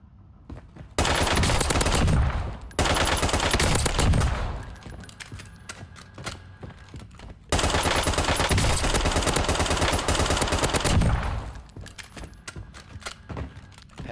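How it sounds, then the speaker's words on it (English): Hemlock battle rifle fired in a first-person shooter game, loud sustained bursts of rapid gunfire in two long strings with short pauses between, followed by fainter scattered shots. "you're gonna be mostly getting in gunfights like this anyways, to 25 meters."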